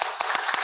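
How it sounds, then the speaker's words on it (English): Brief burst of clapping at a youth conference on ending AIDS, a handful of separate sharp claps in quick regular succession. "So maybe we give them all another round of applause."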